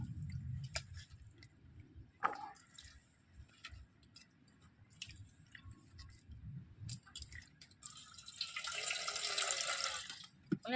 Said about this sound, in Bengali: জল দিয়ে আমি ধুয়ে নিচ্ছি।